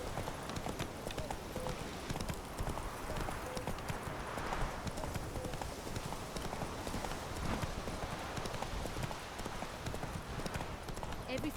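Roach the horse trots in The Witcher 3, hooves clip-clopping in a steady rapid rhythm throughout, mixed with game ambience and a voice talking over it.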